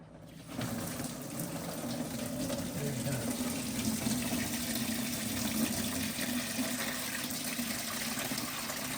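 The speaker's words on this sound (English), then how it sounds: "I'm gonna undo the drain" Water gushes and splashes continuously from the drain of a hurricane-flooded 1967 Corvette, a steady loud pour starting abruptly and running without pause.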